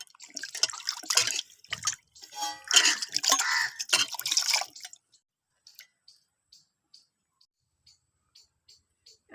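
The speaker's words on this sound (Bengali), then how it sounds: "টমেটোগুলোকে আমি ভালো করে ধুয়ে নিই" Three tomatoes being rinsed by hand in water, splashing and sloshing loudly for about five seconds, then trailing off into a series of soft, evenly spaced drips.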